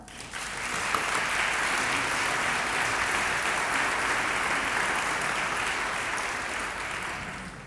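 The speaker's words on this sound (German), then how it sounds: "beginnen mit einem großen Applaus für unseren Herrn Bürgermeister." A concert audience at a 2016 festival concert gives the mayor a full, even round of applause that swells in quickly, holds steady and thick for several seconds, then eases off slightly.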